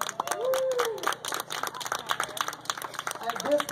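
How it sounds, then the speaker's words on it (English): An audience at a gathering gives a round of applause, a soft, scattered clapping heard beneath intermittent talking and voices throughout. "Y'all give her a round of applause,"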